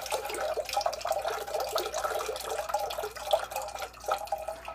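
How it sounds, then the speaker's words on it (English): Liquid pours and drips from a novelty Loch Ness monster (Nessie) kitchen ladle, a steady close trickle with small splashing drips running throughout and no talking. "The little feet kind of hang on to the liquid, so things kind of drip off of the feet."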